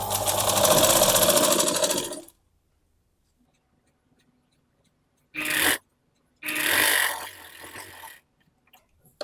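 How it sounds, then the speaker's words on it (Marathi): Sewing machine running a half-inch stitch along a blouse yoke seam: a loud steady burr for about two seconds, then quiet, then two shorter bursts of stitching, alone with no talking. "इथून आपल्याला हे असं 1/2 इंचाची शिलाई मारायची"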